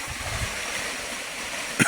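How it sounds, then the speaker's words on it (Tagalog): Water of a river flowing on a farm, a steady broad rushing wash heard up close, with a brief knock near the end. "Ilog mga idol oh."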